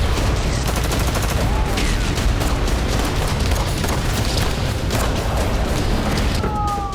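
Heavy gunfire and explosions from fighting in Gaza form a dense, loud, continuous barrage of cracks and booms with no pause.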